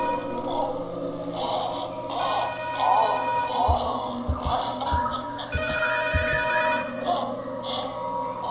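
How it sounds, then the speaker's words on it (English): Telephone ringing in the horror game P.T., repeated ringing bursts in a dense, droning eerie soundscape with low thumps, steady and fairly loud throughout. "Soon afterwards, the phone will begin to ring."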